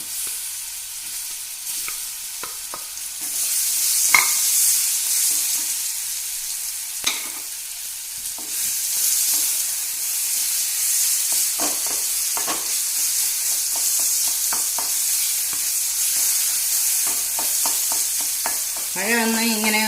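Chopped banana sizzles steadily in hot ghee in a pan, following a batch of cashews, with a continuous crackling fry and occasional scrapes and taps of a stirring spoon throughout.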